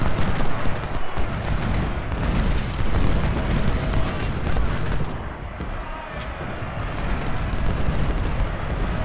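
Cannon and artillery fire in Ultimate General: Civil War at the Battle of Antietam, a dense, continuous rumble of booms and shots filling the whole stretch, loud and close, with someone talking over it.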